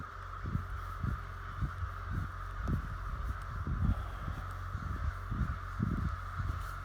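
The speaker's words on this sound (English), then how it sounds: "This is insane, the amount of crows there are." A large flock of crows caws repeatedly from a moderate distance, irregular overlapping calls coming every half second or so over a steady outdoor hum.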